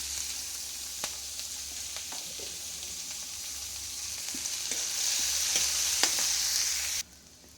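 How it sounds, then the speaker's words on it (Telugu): Onions sizzle steadily in a pan alongside boiled cluster beans dusted with turmeric, a constant frying hiss broken by occasional soft clicks of a stirring spoon, growing a bit louder near the end before cutting off. "ఉల్లిపాయ ఏగుతుందండి ఉల్లిపాయ ఆగనిచ్చి వేసుకున్నాం"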